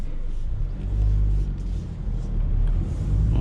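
A 2018 Mazda 3 with about 37,000 miles, just fitted with new front brake pads, heard from the cabin on a neighbourhood test drive. A steady, low road-and-engine rumble swells gently and never quite settles, with no talking.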